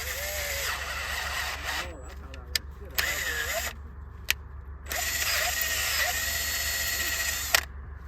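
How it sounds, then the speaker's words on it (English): A power drill bores the stripped old threads out of a Chevy Cruze timing chain component ahead of a Heli-Coil thread repair, running in sustained bursts with a few sharp clicks and brief pauses, with a voice talking over it. "So first we're gonna drill the old threads out"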